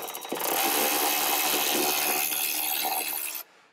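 A cordless power tool working screws loose on a Land Rover Discovery 3, a continuous loud whirring drive that holds steady for about three seconds before cutting off abruptly, close up and alone with no talk.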